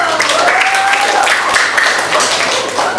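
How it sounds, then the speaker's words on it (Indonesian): A classroom of students applauds together, sustained broadband clapping at close range lasting the whole stretch, with some voices mixed into the noise. "Oke, tepuk tangan dulu."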